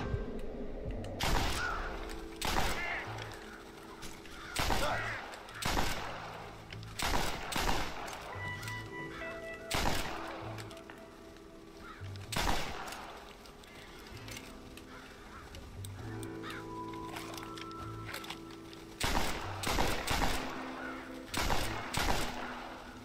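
Repeated gunshots ring out in the video game Red Dead Redemption, sharp cracks in scattered bursts and clusters across a long stretch, with a quieter game backdrop in between.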